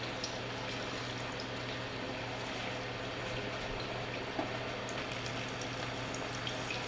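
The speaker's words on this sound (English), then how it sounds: "we're going to start our first batch of frying our wings" Chicken wings deep-frying in oil at 325 degrees for lemon pepper wings, a steady, continuous bubbling sizzle with no pauses, moderately quiet and close.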